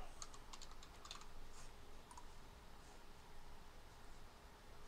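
Typing on a computer keyboard, rapid faint key clicks in uneven bursts over a hissy background, with a few isolated taps toward the end.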